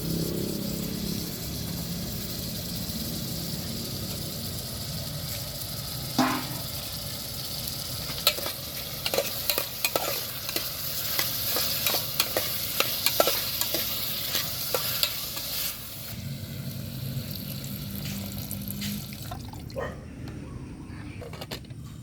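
Food sautés in a pan, a steady sizzle under repeated metallic scraping and clatter of stirring through the middle, with faint voices in the background.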